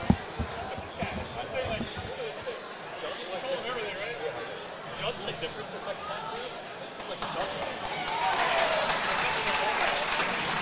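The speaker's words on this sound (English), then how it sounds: "Everyone cheering for Brian here." A crowd at a pinball tournament semifinal chatters and cheers, with scattered claps and a swell of excited noise near the end, while a commentator talks over it.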